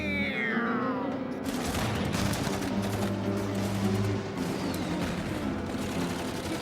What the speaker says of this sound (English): He's shooting me again!